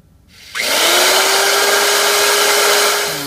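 A power drill spins up suddenly and whines at a steady pitch for a few seconds, loud and close, grinding through an exhaust manifold on an OBS Ford 7.3 before winding down.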